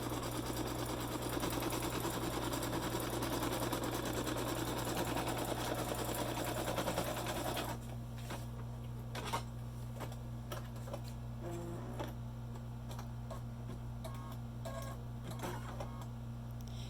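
An embroidery machine stitches a placement outline for a cat keychain on vinyl, a steady mechanical whir with rapid needle clatter that runs loud for about eight seconds, then drops to a quieter hum with sparse ticks.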